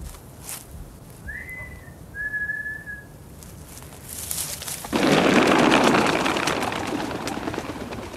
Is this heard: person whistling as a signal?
yes